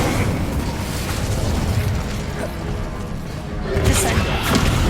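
A burst of fiery spell effects in Hogwarts Legacy, a loud dense roar of crackling blasts and booms with a sharp flare near the end, continuous and close.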